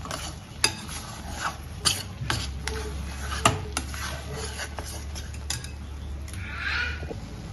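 A spoon scrapes and clinks against a pan while amla candy mixture is stirred with black salt and pepper, a soft steady rhythm of sharp taps over a faint low hum.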